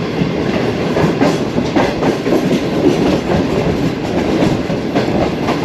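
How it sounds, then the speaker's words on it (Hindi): A train runs along the rails at speed on a delayed service, its steady loud rumble and rhythmic wheel clatter filling the whole span without pause or voices. "ट्रेन हमारी घोटके के करीब दौड़ लगा रही है।"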